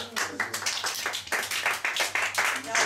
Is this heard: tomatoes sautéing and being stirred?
no